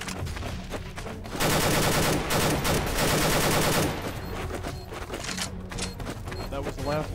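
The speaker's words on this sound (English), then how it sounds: "Throwing a grenade!" Grenade blast and dense gunfire from Counter-Strike: Source played with the Techno-Strike mod, a loud sustained burst of rapid shots and explosion mid-clip, with more scattered shots around it and voices in the mix.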